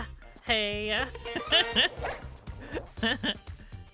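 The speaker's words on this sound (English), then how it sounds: "my doggy is just barking away" Barking from a dog in the Pokemon Violet game, a run of bright yelping calls mixed in with people chatting and laughing over it.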